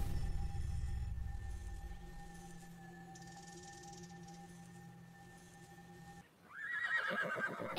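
A horse in the video game Horse Valley neighs, a long whinny in the open, then a second bright, rising neigh at the end after a short gap, with a steady tonal hum running underneath.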